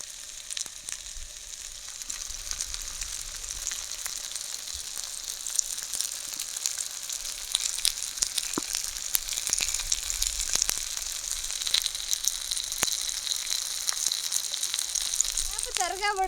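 Red pomfret fish frying in a pan of oil, a steady bright sizzle with scattered crackles and pops throughout, close and continuous, with no talking.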